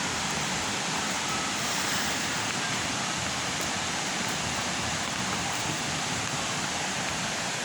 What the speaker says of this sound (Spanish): Esta es la cascada de Chilchotla.